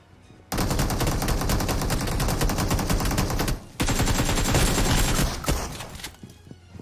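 Gunfire in a mobile battle royale video game during a solo-versus-squad fight; long, loud continuous bursts of rapid automatic shots, a brief pause, then more sustained firing trailing off into a few scattered shots.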